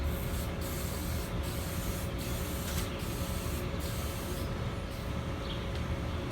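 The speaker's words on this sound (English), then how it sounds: "This is my spray booth." A steady hiss of spray painting in a spray booth runs throughout, a dense continuous rush with brief regular breaks, loud and close, with no talking.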